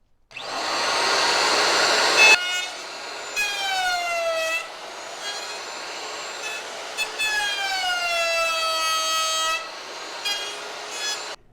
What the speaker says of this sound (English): Now we need to go get our router and we'll route that out.